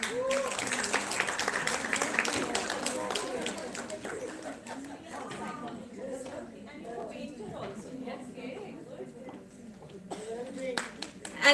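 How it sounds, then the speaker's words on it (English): Applause for a presenter at a women's health conclave in Chandigarh, a dense wash of clapping early on that thins into scattered claps beneath crowd chatter and voices. "A big round of applause for Miss Niharika."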